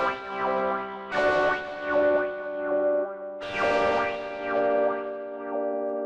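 Ample Telecaster II electric guitar chords with a rhythmic wah sweep, the tone opening and closing in a steady pulsing wow-wow pattern, played alone.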